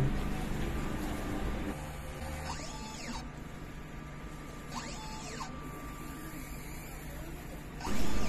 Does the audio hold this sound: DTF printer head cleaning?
yes